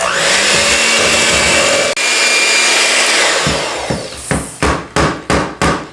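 An electric mixer running on low churns flour into blueberry cookie dough, a loud close whirring drone that breaks into a series of short bursts as it is switched on and off several times near the end.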